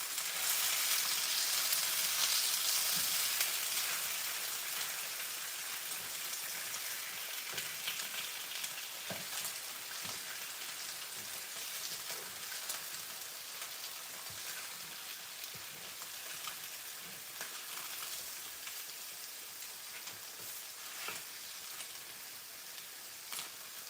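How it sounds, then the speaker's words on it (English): Food sizzles steadily in hot oil as it fries, a dense, close crackle that is loudest at the start and then settles into a continuous hiss with scattered pops, with no voices. "Y'all hear that sizzle?"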